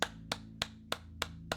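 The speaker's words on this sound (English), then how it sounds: "Hear me clapping?" Six single hand claps at an even, steady pace, each a sharp close crack with a low hum underneath and nothing else between them.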